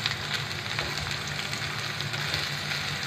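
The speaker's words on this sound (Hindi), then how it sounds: "सब्जियों को हमने 1 मिनट के लिए फ्राई कर लिया है।" Vegetables sizzle in a pan over a high flame, a steady dense crackling hiss with small pops, close and continuous with no talking.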